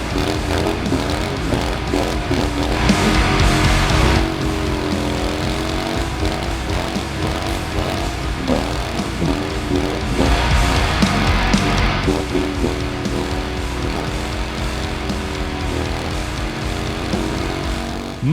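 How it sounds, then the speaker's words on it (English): A heavy 400-kilo BMW bagger motorcycle does a burnout, its engine roaring steadily at high revs for the whole stretch with surging louder pushes, close and alone without talk. "Nothing says eco-conscious like a 400-kilo bagger laying down some rubber."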